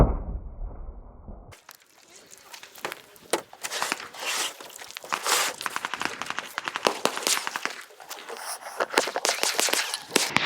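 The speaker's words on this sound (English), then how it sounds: "I wanna see what it looks like when I'm shooting it out of the wrong size barrel." Pistol gunfire, 10mm rounds fired through a .45 ACP pistol with the wrong size barrel, a run of sharp, loud reports and clattering impacts spread across the stretch, with no talking.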